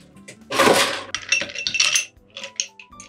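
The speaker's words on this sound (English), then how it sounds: "Now we're gonna go ahead, add our ice," Ice cubes drop into a cocktail glass with a loud initial clatter, then a run of lighter clinks and rattles as they settle, alone without talk.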